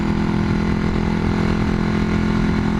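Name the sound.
1981 Yamaha XS400 Heritage motorcycle engine running a little ragged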